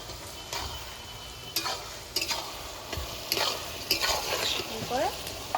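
Bottle gourd and fish being stirred with chili paste in a pan, a spatula scraping in repeated strokes over a soft sizzle of frying, close and clear with no talk.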